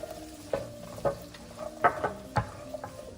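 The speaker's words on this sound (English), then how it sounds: "I'm gonna start putting in the celery, the onions, and the carrots to let those saute for a bit." Celery, onions and carrots sautéing in hot oil in a pan, a soft continuous sizzle with repeated stirring scrapes and light utensil taps at an uneven rhythm, close and fairly quiet.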